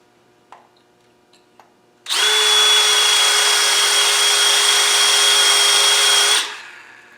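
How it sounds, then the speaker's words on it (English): After a few faint taps, an electric drill whines loudly and steadily for about four seconds while drilling metal on a Land Rover 90 300Tdi, then winds down and stops. "Having a nice sharp drill really helps."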